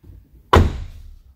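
The cab door of a Massey Ferguson tractor, just refitted with new hinges, swings shut with a single solid thunk and a short rattling ring-out, close and otherwise quiet.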